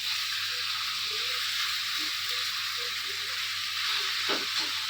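Chicken frying in its released oil with garam masala, a steady close sizzle and hiss with soft scraping from stirring and a brief clank near the end, no speech.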